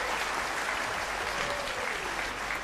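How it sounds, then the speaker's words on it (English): Steady, moderately faint clapping from a church congregation at a water baptism service, continuous applause with no voices on top. "Let's give them an encouraging claps."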